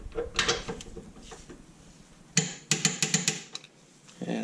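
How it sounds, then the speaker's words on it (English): A pneumatic impact gun rattles in several sharp bursts as it tightens a 17 mm rear subframe bolt on a Honda S2000 during a transmission install, loud and close in a garage. "And looks like the gun got that"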